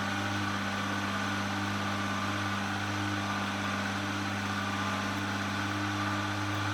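A Toyota Supra engine runs with its RPM held up by a diagnostic tool, giving a steady, constant mechanical drone with a fixed tonal hum and no change in pitch throughout.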